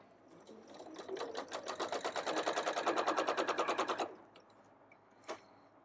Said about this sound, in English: now I'm going to go to my machine and quilt this